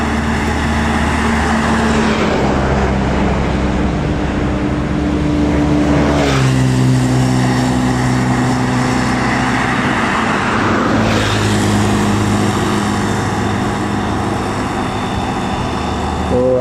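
A medium bus drives by on a road, its engine droning loudly and shifting pitch through gear changes as it passes close, amid steady traffic noise.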